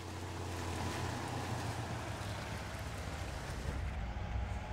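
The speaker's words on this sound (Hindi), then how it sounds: "इसको भी ट्रक को ले जाऊँ रिवर क्रॉस करके" A truck crossing a river in the video game Spintires MudRunner makes a dense, continuous rush of churning water over a low engine rumble, loud and steady throughout.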